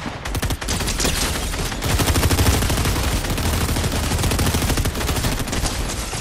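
Dense, continuous automatic gunfire in Fortnite, rapid bursts layered over each other, loud and sustained throughout with no pauses.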